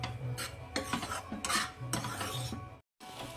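Ground cardamom being mixed into ghee in a pan: a rhythmic series of rasping scrape-and-stir strokes up close, then a brief silent gap just before the end.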